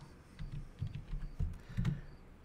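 Several quick keystrokes on a computer keyboard, typed close by in short bursts of irregular rhythm with no one speaking.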